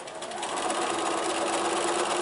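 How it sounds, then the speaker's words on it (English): Sewing machine stitching quilt pieces together with a quarter-inch seam, a steady, continuous motor whir running close and unbroken throughout. "So I'm going to sew all of these together"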